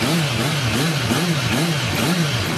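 Suzuki Bandit 650 motorcycle fitted with a two-way Coyote exhaust set to its quiet mode, idling close by with a steady, pulsing, slightly uneven low rumble and no talking.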